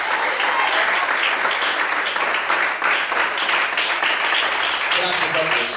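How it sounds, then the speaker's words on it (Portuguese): A church congregation applauds God during an evening worship service, a dense, steady roar of many hands clapping for about six seconds, with a few voices cheering through it near the end. "Você pode aplaudir o Senhor?"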